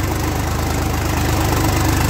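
A new Swaraj 855 FE tractor engine idles nearby with a steady, low, throbbing chug and a faint rattle, loud and continuous.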